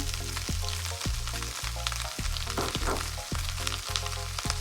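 Onions fry in a pan for a homemade beef lasagna, a steady, close sizzle with regular scraping stir strokes about every half second and no talk.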